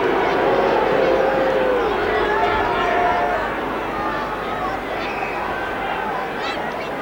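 A football stadium crowd at a match reacts to a player being booked, a loud dense roar of jeers and whistles that holds steady and eases slightly toward the end, with no clear talk over it.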